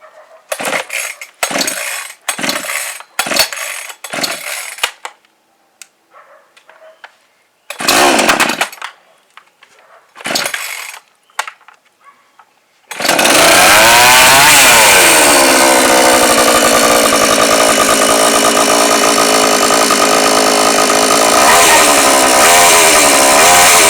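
A NAC CST45 petrol chainsaw with a 2.2 hp engine and 40 cm bar gives several short pull-cord rattles with pauses, then catches and runs at a loud, steady idling roar close by.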